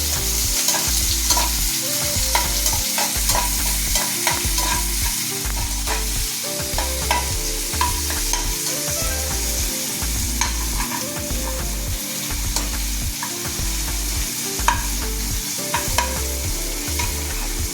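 Onions and a green chili tossed and stir-fried in a hot pan for veg noodles, with steady sizzling and a rhythmic series of scraping, stirring strokes running throughout, close and loud, with no talking.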